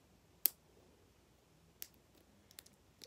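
A fidget toy gives a few sharp, faint clicks spaced irregularly across a quiet room, with one crisper snap near the start and softer taps after.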